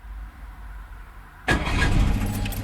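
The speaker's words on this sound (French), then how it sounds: "Une auto qui démarre au corps de tour." A pickup truck engine cranks and catches abruptly after a quiet idle-free pause, then settles into a loud, close, steady run; no talking.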